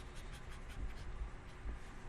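Soft, steady scratchy strokes of a marker moving across paper, close up and quiet, repeating in short passes with no voices.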